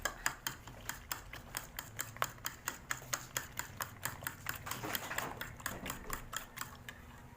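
Eggs with onions and salt are beaten in a bowl, a quick, regular clicking of utensil strokes against the bowl, close but soft, with no talking.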